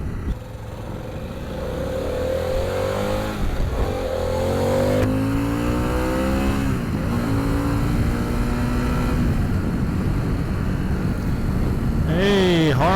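A Harley-Davidson Pan America 1250 Special motorcycle engine pulls steadily on the road in highway mode, its revs climbing and falling through gear changes beneath constant wind rush, loud and close throughout.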